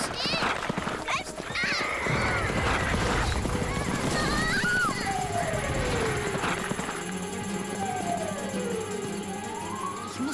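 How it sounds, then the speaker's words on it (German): Frightened horses neigh and gallop in a dense, busy mix, with whinnies and rapid hoofbeats under continuous talk and background music. "Was kann die Pferde so erschreckt und wild gemacht haben?"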